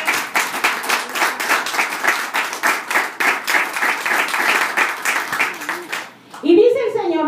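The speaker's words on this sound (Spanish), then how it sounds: "¿Cuánto le dan un aplauso al Señor?" Congregation in a Christian church gives sustained applause for the Lord, a steady dense clapping over about six seconds that ends abruptly, followed by a voice speaking alone.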